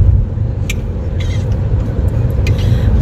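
Steady, loud rumble from inside a car driving on the road, with engine and road noise throughout and a few faint clicks and rattles above.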